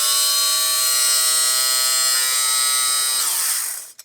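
Battery-powered BL588X lint remover with two blades, running as a loud, steady high-pitched motor whine that winds down in pitch near the end and cuts off.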